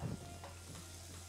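Cumin powder sizzles in hot oil with mustard seeds and urad dal in a pan, a steady close frying hiss with a low hum beneath and no talking.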